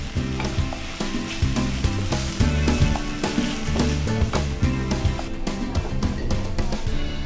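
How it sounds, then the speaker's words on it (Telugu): Mint leaves frying in a pan, a loud close continuous sizzle with stirring clatter and scraping throughout, no voices. "ఒక్క నిమిషం, అంటే పుదీనా కొంచెం మెత్తబడే వరకు వేయించుకుంటే సరిపోతుంది"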